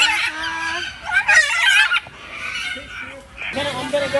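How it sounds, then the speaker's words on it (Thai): Macaws at Safari World in Bangkok give loud, harsh squawks and honking calls in close bursts, one after another, with crowd noise in the background. "มาดูนกแก้วมาคอนะคะ นี่ ส่งเสียงเจียวจ้าวกันอยู่ตรงนี้"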